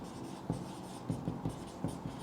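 Marker or chalk writes on a board in a classroom lesson, a series of short scratchy strokes tapping out in uneven bursts, faint and close.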